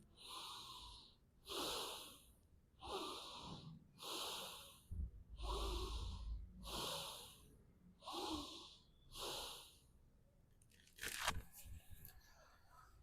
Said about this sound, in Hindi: लंबी गहरी सांस लेते रहेंगे